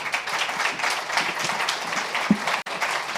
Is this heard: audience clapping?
yes